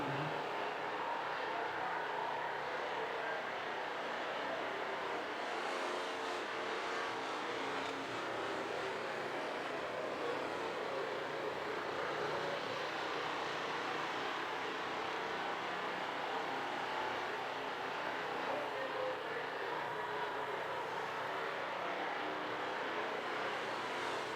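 Vintage race cars circle a racetrack at a 1994 vintage racing event, their engines droning steadily and evenly at a distance, without distinct pass-bys standing out from the continuous roar.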